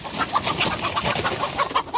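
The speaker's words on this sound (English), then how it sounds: "Oh, chicken. Why are you being so crazy?" Several farm chickens cluck close by in quick, repeated, agitated bursts, busy and loud with no pause.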